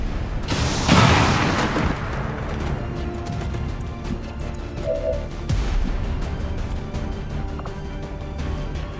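Explosions in the video game XCOM 2 as enemies are blown up: a heavy boom with a rumbling tail, followed by scattered smaller bursts and crackling debris over a steady game soundscape.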